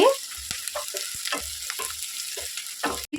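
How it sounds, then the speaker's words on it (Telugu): Onions sizzle and fry in a pan while being cooked for a Telugu amaranth-leaf garlic chili dish, a steady hiss broken by frequent stirring scrapes, close and fairly loud, with no talking. "ఇదిగోండి ఏగిపోయాయి ఉల్లిపాయలు"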